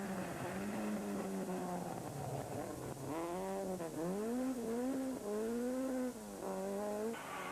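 A beautifully prepared Ford Mark II Escort rally car on a gravel single-stage rally, its engine note rising and falling as the gears change, loud and close throughout.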